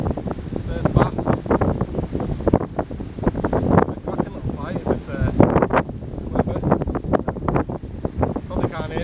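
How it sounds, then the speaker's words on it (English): Strong wind buffets the microphone on a beach at Rhyl during bass fishing, a loud, continuous gusty roar throughout with muffled, indistinct voice-like sounds underneath. "Probably can't hear me with this wind"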